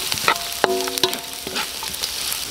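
Carrots fry with onion and garlic in a pan for escabeche, giving a steady sizzle with scattered clinks and scrapes of stirring, close and without talk.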